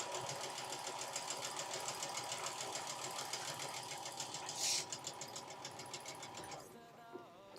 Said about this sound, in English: Sew these up together, and I'm just gonna chain piece them real quick.